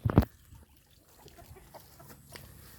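A chicken gives one loud, close cluck at the very start, then only faint scattered outdoor noise follows.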